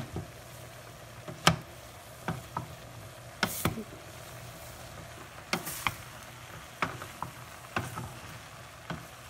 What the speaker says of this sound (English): Give this a nice toss, stir it together.